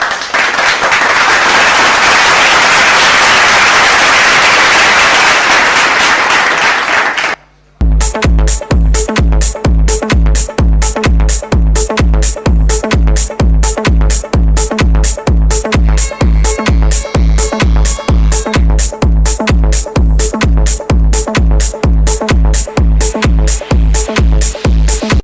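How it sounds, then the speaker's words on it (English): Applause at an awards ceremony, a broad wash of clapping for about seven seconds, then it cuts into a loud, steady, rhythmic beat of music that pounds on for the rest. "Join me in giving a big, big round of applause"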